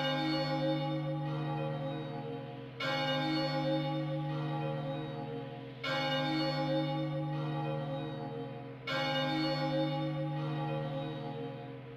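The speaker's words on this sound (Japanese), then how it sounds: "鳴り響け、 時忘れの鐘。" The Time-Forgetting Bell from the video game Chocobo's Mystery Dungeon tolls four times in a slow, even rhythm, each deep, resonant strike ringing out long and overlapping the next.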